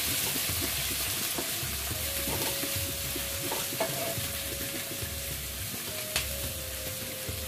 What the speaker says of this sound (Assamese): এতিয়া মই ইয়াতে কাটি থোৱা মোৰ যিখিনি পিঁয়াজ আছিল সেইখিনি মই ইয়াতে তেলত দি দিম